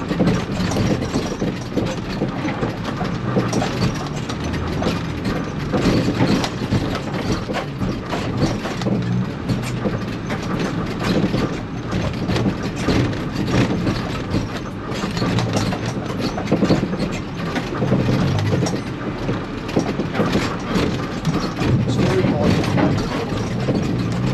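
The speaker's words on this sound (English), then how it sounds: "Down the bank now. First gear." Land Rover Freelander rolling down a steep bank in first gear during an AWDC Freelander trophy off-road event at Minehead, a steady low engine drone with rattling and bumping throughout, loud and close.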